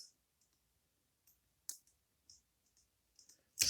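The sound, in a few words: lock pins clicking while a lock is being picked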